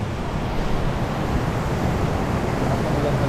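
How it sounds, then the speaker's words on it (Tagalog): Heavy rain pouring down steadily near Taal Basilica in Batangas, a loud, continuous dense hiss with no break, heard from close by under shelter. "so inabutan na kami ng ulan."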